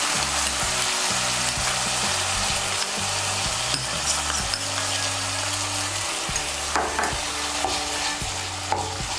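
Paneer being stirred in a pan with cashew and poppy seed paste, continuous close sizzling with repeated scraping strokes of a spatula and steady low background hum, no speech.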